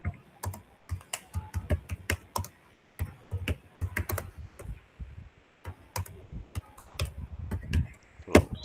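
Someone types a prompt for an AI image on a computer keyboard, with quick close-up key clicks in irregular bursts and brief pauses, over a faint room hum.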